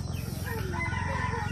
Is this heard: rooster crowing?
yes